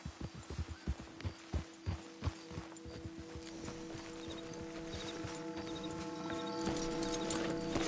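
Horses' hooves clip-clop in a game set in the Old West, walking along a road with a steady, fairly close rhythm that eases off as a low hum and a sustained musical drone rise and take over.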